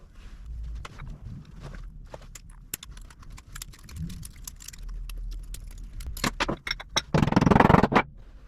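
A pinion seal has its flange snapped off and is then tapped down into place, giving sharp metallic clicks and taps of uneven rhythm that end in a louder cluster of hits, close up with no speech.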